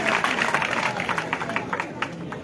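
A crowd applauds the chiefs at a political rally, with distinct hand claps layered over a murmuring audience and voices mixed in.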